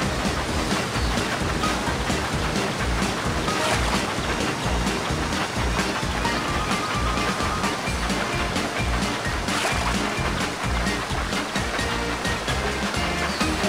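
Rushing water pours down a wild mountain water slide in a Thomas the Tank Engine train game, a loud, continuous churning wash that carries on without a break.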